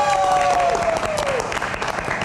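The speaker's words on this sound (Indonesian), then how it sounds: "Kita kasih tepuk tangan untuk Bernie." Studio audience applause for a guest on a TV show, a brief burst of clapping with a tonal sound effect sliding over it.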